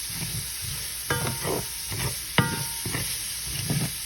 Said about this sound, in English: Sweat these vegetables out for about 5 to 7 minutes